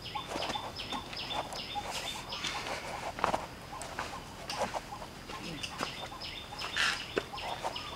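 Turkey gobbling outdoors at a distance, several rapid warbling calls repeating through the scene, with chicken clucks and other fowl sounds around it; faint voices appear now and then.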